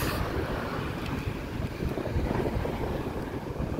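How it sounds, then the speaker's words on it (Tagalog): Wind buffets a microphone outdoors in hot Philippine weather, a steady low rumble of gusts filling the whole stretch without let-up and no voices over it. "Tapos hampasin ako ng hangin."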